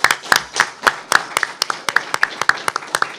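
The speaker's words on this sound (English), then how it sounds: "Please join me giving them a round of applause for being with us." A small audience at a public hearing on immigration enforcement in Los Angeles claps for a panel, with sharp, distinct hand claps in a quick, uneven rhythm, sparse enough that single claps stand out.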